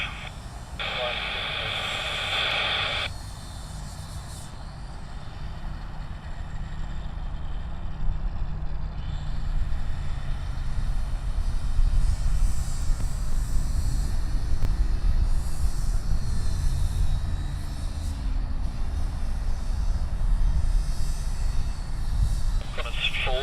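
An airliner takes off from runway 34 right at Sydney Airport, its engine roar building into a broad, steady rumble that swells and holds, heard from a distance beneath crackly tower radio chatter early on.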